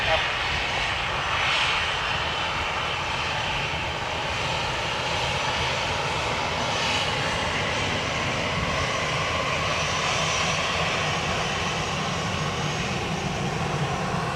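Aircraft engines roar steadily at Dublin Airport, a broad continuous jet-like rumble and hiss filling the whole stretch at moderate loudness, with faint voices in the background.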